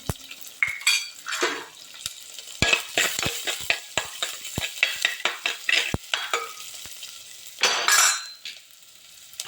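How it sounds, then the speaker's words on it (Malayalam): Four crushed garlic cloves with a little onion fry in a pan for spinach thoran, with rapid spoon-on-pan clinks and scraping over a low sizzle, ending in a louder sizzling burst. No one speaks. "അതിൻ്റെ കൂടെ ഞാൻ നാല് ചതച്ച വെളുത്തുള്ളി ചേർത്ത് കൊടുക്കുന്നുണ്ട്"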